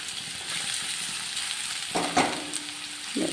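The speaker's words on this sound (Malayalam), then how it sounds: "ഞാനിതൊരു ചീനച്ചട്ടി അടുപ്പത്ത് വെച്ച് എണ്ണ ഒഴിച്ചിട്ട് നമ്മൾ ചെറിയൊരു സവോള വഴറ്റാൻ വെച്ചിട്ടുണ്ട്." Chopped onion sautéing in oil in a frying pan on the stove, a quiet continuous sizzle up close with a couple of brief stirring clinks near the end.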